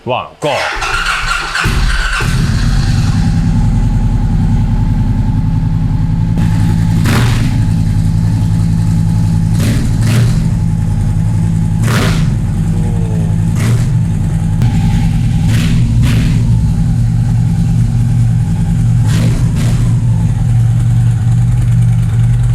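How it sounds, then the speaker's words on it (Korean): A Victory Magnum 1800cc motorcycle with about 2,400 km on it cranks and catches, then settles into a loud, steady, deep idle with a few sharp blips throughout. "너무 크지도 않고 그렇다고 작지도 않은 1800cc 엔진의 힘을 고스란히 느낄 수 있는 그런 사인 사운드"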